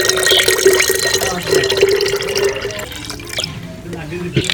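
Water poured into a jug while making homemade peach juice, a steady splashing, trickling pour close by that continues for several seconds, with a voice speaking over it.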